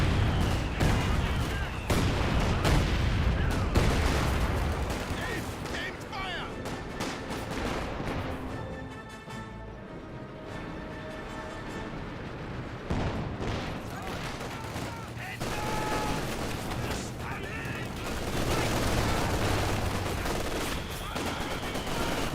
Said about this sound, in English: I guess it's the heavy mortar barrage from the artillery officer.